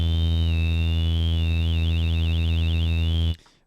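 Phaser effect from FL Studio's Fruity Phaser on a steady synth tone, a sweeping, swirling notch that speeds into a fast warbling wobble before cutting off abruptly near the end.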